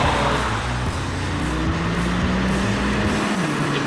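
A 2025 MINI Cooper S drives along, its engine droning steadily with a low hum, shifting tones and rising pitch, close and loud over road noise with no talk.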